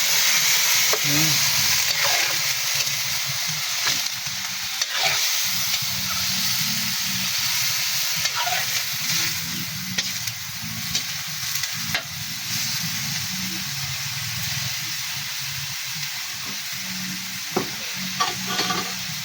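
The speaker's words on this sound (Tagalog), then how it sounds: "Ayan, halo-haloin lang natin." Chicken gizzards stir-fried in a pan give a steady, close sizzle, with a spatula periodically scraping and stirring through the bubbling oil.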